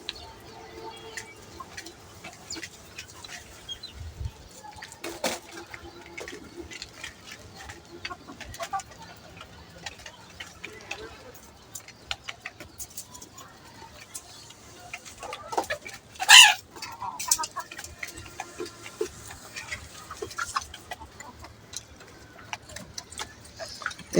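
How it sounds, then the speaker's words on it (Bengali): Chickens on a small farm in Bangladesh peck at a mixed feed, clucking softly and intermittently throughout, with one louder squawk partway through and a faint murmur in the background. "দেখেন মুরগিগুলা কিভাবে খাচ্ছে"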